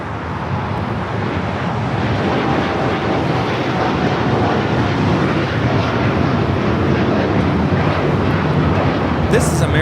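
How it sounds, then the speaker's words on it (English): An American Airlines Boeing 787-9 Dreamliner takes off from Los Angeles airport, a loud steady jet roar with wind buffeting that holds throughout, no talk over it. "This is American Airlines Flight 27 taking off to Tokyo, Haneda on the 787-9 Dreamliner."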